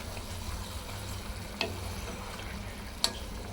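Cleaned prawns fry in oil with a little salt in a wok on a stovetop, hissing steadily and quietly. Two sharp clinks of a utensil against the pan break the hiss, one midway and one near the end.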